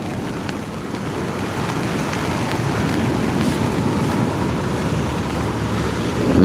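Rain falls at sea around a fishing kayak, a dense, continuous hiss blended with wind and water noise, steady and fairly loud with no talking.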